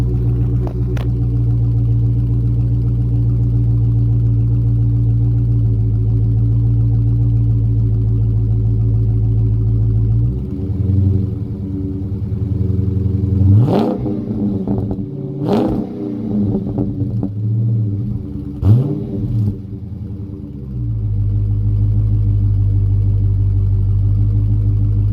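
A 2022 Dodge Charger Scat Pack Widebody idles with a deep, steady rumble, then is blipped through several sharp throttle revs that rise and fall before it settles back to idle, recorded close with no talk.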